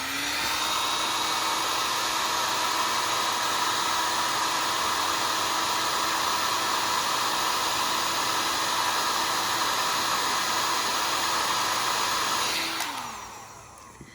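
A heat gun blowing hot air to shrink heat-shrink tubing onto a wire, a steady loud broadband whoosh with a constant motor whine for about twelve seconds, then switched off and winding down.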